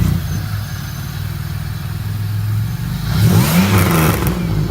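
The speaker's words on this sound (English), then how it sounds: "Start her up. Give her a rev." Pontiac Grand Prix GTP with an open cone intake idles with a steady engine drone, then revs sharply in a couple of rising bursts, loud and close.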